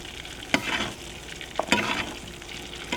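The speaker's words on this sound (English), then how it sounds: "Now that we're done sauteing our steak in our saute pan" A steak sizzles and spatters steadily in a saute pan with a couple of sharp bursts of frying as it is basted, close and fairly quiet.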